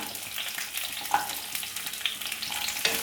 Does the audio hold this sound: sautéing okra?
yes